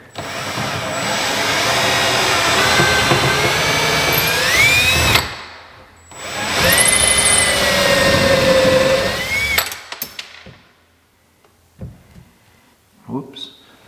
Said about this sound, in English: I got this drill bit with a countersink bit in it. I'm gonna pre-drill everything.